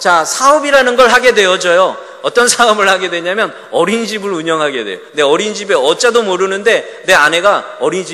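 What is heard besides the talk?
No distinct noise like a dog, phone or traffic.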